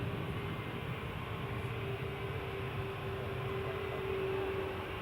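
An Airbus A320neo jet takes off from runway 24 at Edinburgh Airport, giving a steady, distant engine roar with a sustained whining tone that holds for the whole stretch, with no voices.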